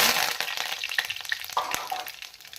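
Mustard seeds spluttering and curry leaves sizzling in hot oil for avarekai gojju, a dense, loud frying hiss scattered with sharp little pops and crackles.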